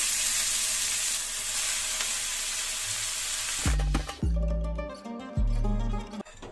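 Chopped fenugreek leaves hit hot oil with garlic cloves in a pan and send up a loud, even sizzle; it gives way midway to a few heavy, booming knocks and bumps.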